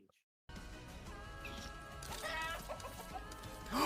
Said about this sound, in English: It made the chicken sound when I backed out.